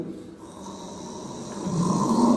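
A person snoring close by, one long, rough, rumbling breath that grows gradually louder.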